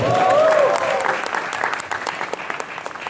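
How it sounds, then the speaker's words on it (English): A burst of audience clapping at a film press conference for the robot movie 2.0, loud at first and thinning out over a few seconds, with some voices and a tonal sound early on. "why not a round of applause, right?"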